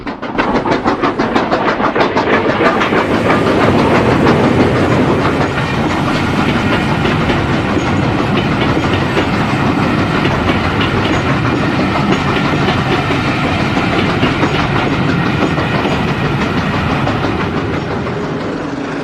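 Two steam locomotives, Nigel Mansell and King Charles Collett, double-heading a passenger train toward a road bridge, a loud, steady rumble with continuous clickety-clack of wheels and chuffing that holds close throughout.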